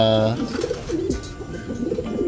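A pigeon hen coos close by in repeated soft, throaty bursts, with someone talking over and between the calls.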